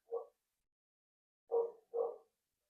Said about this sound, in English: my dog who's barking at somebody or something outside right now